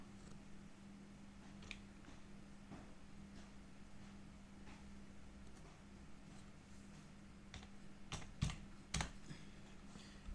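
Typing on a computer keyboard, a close, quiet run of soft clicks and taps at an uneven rhythm, with a couple of sharper keystrokes near the end over a faint steady hum.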